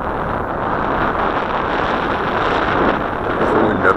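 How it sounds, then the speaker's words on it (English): Steady wind buffets the microphone outdoors in a continuous, loud broadband roar that never lets up. "There's the wind up there."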